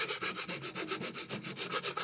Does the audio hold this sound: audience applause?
no